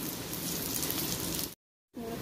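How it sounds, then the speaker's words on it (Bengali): Chopped onion, garlic and green chili frying in oil, a loud, dense, continuous sizzle and crackle close by, broken by a brief silent gap before the sizzling resumes. "তেলের উপরে দিচ্ছি পেঁয়াজ কুচি, রসুন কুচি, কাঁচা লঙ্কা কুচি, সবগুলো একসঙ্গে একটু ভেজে নেব"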